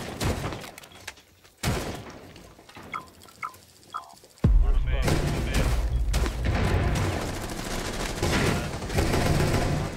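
Gunfire in a competitive shooter match on the Villa map, with sparse distant shots and clicks first, then a sudden loud blast followed by sustained rapid firing.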